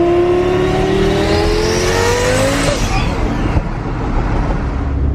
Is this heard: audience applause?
no